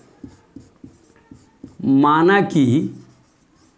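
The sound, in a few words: writing the solution by hand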